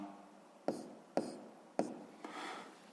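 A pen writes a point label on paper: three crisp taps, each followed by a short scratchy stroke, then a slightly longer scribble, close and quiet.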